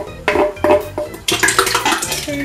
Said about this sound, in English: Pour our tomatoes on in here.